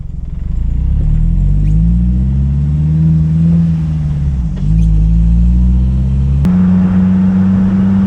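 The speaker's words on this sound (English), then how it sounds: "that was a good acceleration to 45" A 2004 Jeep TJ with a 2.4L engine and 5-speed manual accelerates from the cabin, its loud, steady engine drone climbing in pitch, dipping briefly at a gear change, then settling at a higher cruising note.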